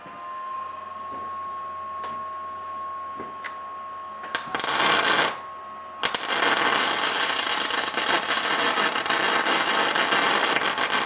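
A small semi-automatic MIG welder starts after a few clicks and a short buzz, then crackles steadily and loudly as it lays a weld bead on a repair job.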